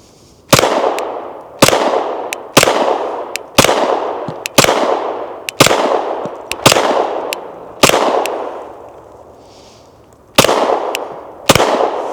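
Rost Martin RM1C pistol firing a magazine, about ten sharp, loud shots spaced roughly a second apart, each with a short echoing tail, and a longer pause before the final two.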